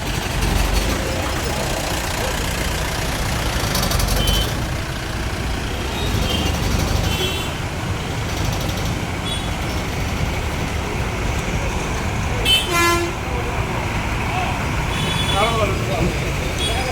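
Jammed road traffic in Mapusa idles in a dense, steady engine rumble of buses, trucks and cars close by, with faint voices and brief sharper bursts now and then.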